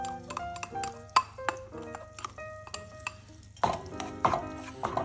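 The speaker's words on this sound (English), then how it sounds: "we're going to saute this until the onions are translucent" Minced onions sauté in melted butter over medium-high heat, heard as scattered spoon scrapes and ringing taps against the pan over a faint sizzle, close by, with no speech.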